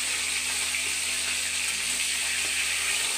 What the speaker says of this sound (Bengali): মাছটা প্রথমে তুলে নিলাম আর দেখো ভাজা হচ্ছে